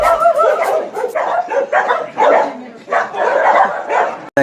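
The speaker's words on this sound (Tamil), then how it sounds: "ஆனால் நாங்கள் சிலிண்டர்னு கூப்பிட்டா ஓடி வந்து எங்கள் காலுக்கிட்ட வாலாட்டிட்டு நிற்கும்." A dog barks and yips in short repeated bursts close by, mixed with people talking over it.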